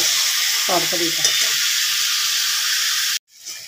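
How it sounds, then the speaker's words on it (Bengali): Potatoes and pointed gourd curry being stir-fried with a little water give a steady, close sizzle and hiss, with a few brief scraping stirs early on, before the frying sound cuts off abruptly near the end. "জল দিয়ে ভালো করে কষিয়ে নেব"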